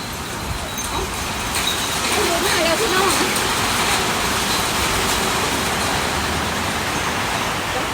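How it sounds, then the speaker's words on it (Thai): Heavy rain pours down around a house, a loud, dense, steady hiss throughout with people talking excitedly over it. "ตกเข้าบ้านแล้วเข้าบ้านแล้วเข้าบ้านแล้วฝนตกแล้ว"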